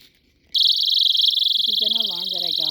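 Personal self-defense alarm sounding, a piercing continuous high-pitched electronic shriek that starts abruptly and holds steadily at close range while a person talks over it.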